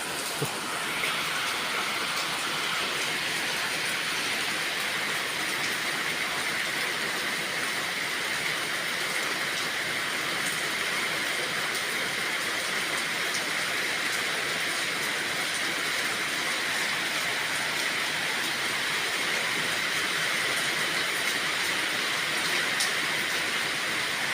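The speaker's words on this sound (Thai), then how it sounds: "เอาบรรยากาศฝนตกมาให้เบิงซื่อๆดัก" Heavy rain pours down during a storm in the mountains, a dense, steady hiss that stays constant and fairly close for the whole stretch with no voices.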